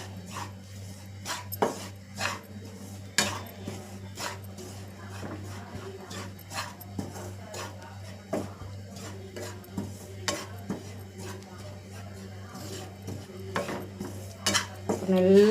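Flour roasts in a pan while a utensil scrapes and taps against the metal in repeated, irregular strokes over a low steady hum, close and without talk.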